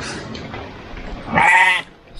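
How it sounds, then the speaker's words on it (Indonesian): A single close sheep bleat from a sizeable flock of village sheep, loud and wavering for about half a second over steady rain-like background noise, followed by quieter ambience. "Ini cukup banyak ya dombanya,"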